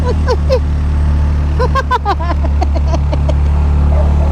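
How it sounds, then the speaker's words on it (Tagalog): Motorcycle engine laboring hard on a steep uphill road toward Baguio, a steady low rumble running throughout under bursts of laughing and talking voices. "hirap na hirap na yung motor natin."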